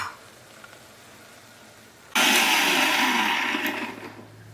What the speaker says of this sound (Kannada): ಗ್ರೈಂಡ್ ಆಯಿತು, ಗ್ರೈಂಡ್ ಮಾಡ್ಕೊಂಡಿದ್ದೀನಿ